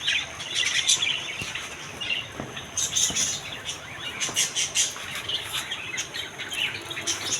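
A busy bird market holds budgerigars and lovebirds, and their many overlapping chirps, tweets and squawks come in dense bursts at moderate volume against a low background hum.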